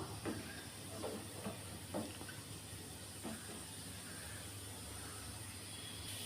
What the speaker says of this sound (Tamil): தேங்காய் பால் சேர்த்து ஒரு ரெண்டு நிமிஷம் மட்டும் கொதிச்சா போதும்